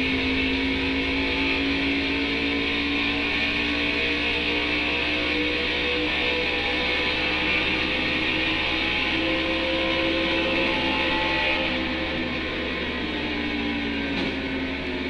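Several race car engines drone steadily in a stock car racing video game, a continuous layered mechanical hum with sustained pitch bands that holds at constant loudness throughout, no voices over it.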